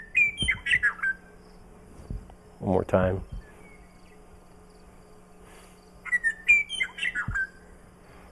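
The western of two closely similar bird species sings a couple of short whistled phrases, clear and fairly near, with quiet gaps between them. A voice says a few words in between.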